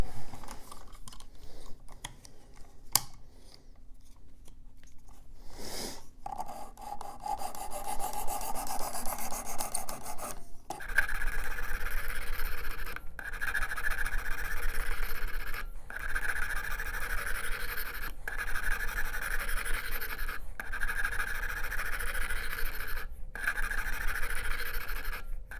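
Steady raspy strokes of a knife blade drawn across the abrasive of a Worksharp Precision Adjust sharpener, repeated in even passes with brief pauses between them, close and clear with no talking.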